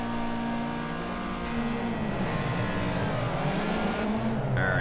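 A Caterham race car engine in the Project Cars racing game drones loudly and steadily, its pitch dipping and climbing as it revs through gear changes.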